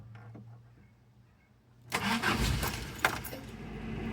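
A 1992 Toyota pickup with a 22RE engine suffering intermittent starting trouble cranks and catches, roaring loudly to life after a quiet lead-in with faint clicks and key rattles, then settling into a rough running idle.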